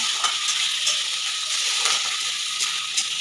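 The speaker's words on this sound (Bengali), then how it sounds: "পেঁয়াজটা আর ক্যাপসিকামটা হালকা হালকা ভাজা হয়ে গেছে" Onions and capsicum frying in a pan over a high gas flame, a steady close hiss of sizzling with light, occasional stirring clicks.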